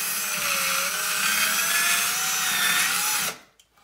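A power drill widening a hole for a toilet paper holder whirs steadily at high speed for about three seconds, close by, then spins down and stops.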